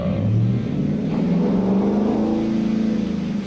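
A supercharged Hemi Dodge Charger is run up hard in fourth gear, its loud, steady engine roar climbing in pitch with a continuous throaty drone close by throughout.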